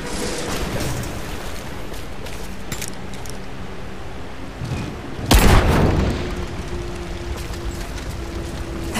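Greek fire vessel detonating in Rise of the Tomb Raider, a single deep booming blast bursting out of steady game ambience midway, then rumbling briefly before fading back into the background.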